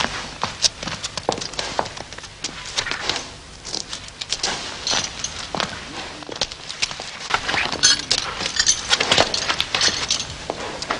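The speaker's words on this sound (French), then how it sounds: "C'est sûrement son cheval." A horse moves about in a stable, hooves clip-clopping on the floor in an irregular, fairly close rhythm with scuffs and shifting noises throughout.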